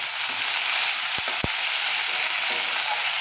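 Onion and green chili fry in hot oil with a steady, close, broadband sizzle, broken by two sharp clicks just past the one-second mark as tomatoes go into the pan.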